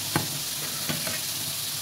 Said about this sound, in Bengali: এদিকে লাউটা ভাজা ভাজা হয়ে আসছে, ভাজা হতে থাক